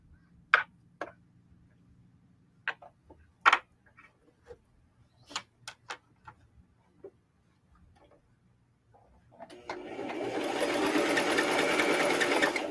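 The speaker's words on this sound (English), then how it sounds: "So now I'm turning and I'm done sewing this sleeve" A home sewing machine stitching a sweatshirt sleeve: a few scattered ticks and clicks, then a steady, close mechanical whir as the machine runs continuously to the end, with no talking.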